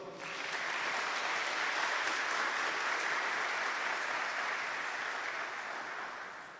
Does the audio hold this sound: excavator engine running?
no